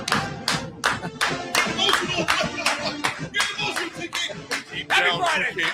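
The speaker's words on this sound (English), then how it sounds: "Come on, go ahead and clap." A few people clapping in a radio studio, a run of sharp, close, distinct handclaps in an uneven rhythm, roughly a dozen claps over several seconds, with some faint voices in between.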